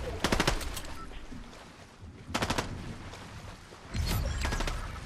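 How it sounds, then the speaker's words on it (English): A computer-controlled bot fires in a video game, with three bursts of rapid automatic gunfire: a short volley near the start, another in the middle and a louder, longer one near the end, separated by quieter game ambience. "Don't worry about the bot shooting."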